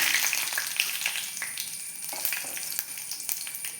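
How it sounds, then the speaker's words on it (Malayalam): Dried red chillies and curry leaves fry in hot oil with a steady close crackling sizzle and scattered sharp pops, continuous throughout with no talk. "ഇനി അതിലേക്ക് ഒരു രണ്ട് മൂന്ന് ഉണക്കമുളകും കൂടി ഒന്നിട്ട് കൊടുക്കാം ആ കൂടെ ഒരു രണ്ട് കറിവേപ്പിലയും കൂടെ ചേർക്കാം"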